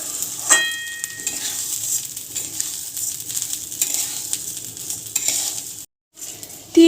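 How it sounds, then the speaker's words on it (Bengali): Rice fries in a pan with a constant sizzling hiss and occasional spoon scrapes and clinks, broken by a short silent gap near the end. "এখন ভালো করে 3-4 মিনিট ভালো করে ভেজে নেব চালটা"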